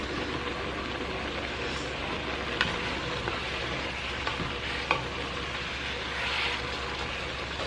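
Ground meat and mushrooms cook in a pot for chili, giving a steady sizzle and frying hiss with a few faint stirring scrapes and clicks throughout.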